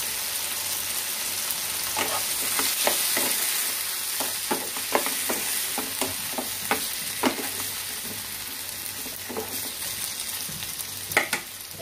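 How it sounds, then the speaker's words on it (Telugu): Green chilies, tomatoes and tamarind fry in a pan for ridge gourd peel chutney: a constant near hiss of frying with repeated spatula scrapes and taps in an irregular rhythm, no voices. "ఇవి కూడా కొంచెం ఫ్రై చేసేసుకుందామండి ఒక 2 మినిట్స్ వరకు."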